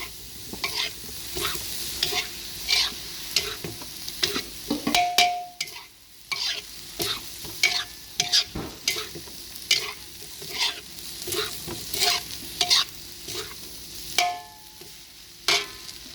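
Rice vermicelli, about 300 grams of the Cap Meruk brand, being stirred and tossed in a hot wok for bihun goreng. Repeated scraping and clattering strokes ride over a steady, close sizzle throughout, and no one speaks.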